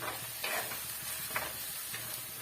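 Ginger garlic paste sautéing in a pan for a village-style country chicken curry, a steady soft sizzle with a few stirring scrapes at irregular intervals, close and moderately quiet with no voices.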